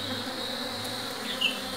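Honeybees buzz around beehives outdoors in bright sun, a steady close swarm hum with an individual bee passing nearer near the end, no talking.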